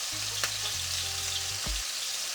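Chicken thighs frying in a pot, a steady broad hiss of sizzling oil held at an even level throughout, close, with a faint low hum and no talking.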